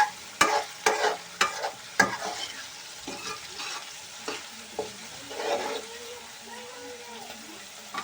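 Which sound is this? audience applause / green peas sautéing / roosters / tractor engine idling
green peas sautéing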